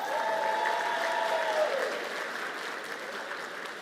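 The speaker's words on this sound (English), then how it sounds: "Let's give them a round of applause again." An audience at a national forum for Black public administrators applauds the Maryland host chapter, a dense, sustained round of clapping from a large crowd that slowly tapers off.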